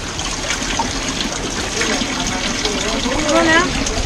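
Fresh holy water trickles and splashes steadily at a temple in Bali, a continuous watery patter with people talking over it.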